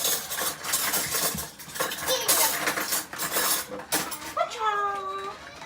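A spoon stirs keto cinnamon roll batter in a bowl, giving close scraping and clinking strokes with a brief squeaky tone near the end.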